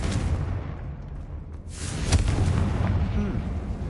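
A Confringo fire spell blasts a barricade in Hogwarts Legacy, a deep booming explosion with a sharp burst near the middle, followed by rumbling debris in the game's ambient soundscape.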